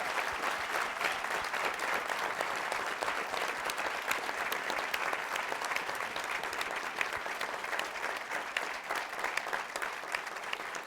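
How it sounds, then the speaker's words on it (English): An audience applauds panelists at a board meeting, producing dense, steady clapping that stays loud and even for about eleven seconds with no talking over it. "just a quick round of applause to our panelists"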